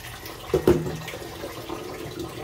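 Water running from an outdoor faucet, a steady low splashing flow at moderate distance with a couple of brief knocks near the start.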